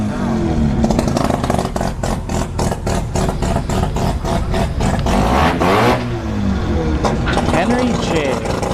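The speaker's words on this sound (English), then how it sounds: "This is a Toyota Starlet, rotary swapped." A rotary-swapped Toyota Starlet drag car at a drag strip revs loudly and steadily, the engine's buzzy pulsing rising and falling under a busy crowd and event noise.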